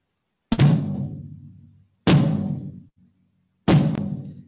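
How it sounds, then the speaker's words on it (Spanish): A 16 by 14 floor tom fitted with an Evans EMAD head is struck three times, each deep, booming hit ringing out and decaying before the next, with silence between. "quiero que oigan cómo suena este tom de piso"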